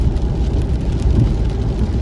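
Rain falls steadily while a car drives along a rural road in Kalasin, Thailand, a dense broadband hiss over a low rumbling engine and tire noise with no talking.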